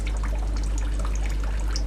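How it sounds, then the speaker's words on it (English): A steady, soft trickle of water running continuously from a hose into a shrimp tank, with a low constant hum beneath it. "You can see it just trickling in."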